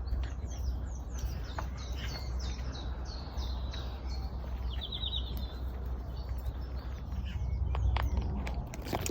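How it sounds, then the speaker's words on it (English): Several birds chirp and call in varied, overlapping songs during a walk outdoors, with faint footsteps and a low background rumble. "as we walk along, you'll hear different birds"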